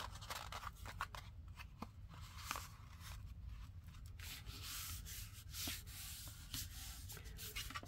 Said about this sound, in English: Turn it over and let's fold it into thirds.